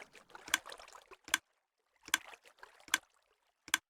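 Water flowing in Minecraft, with soft splashing and trickling sounds that come in separate close bursts with short silent gaps between them.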